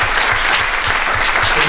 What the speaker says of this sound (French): Merci d'applaudir Nora, notre responsable de la communication